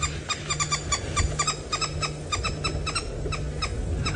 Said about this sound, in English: When they do their characteristic calls, they sound like a bunch of cackling women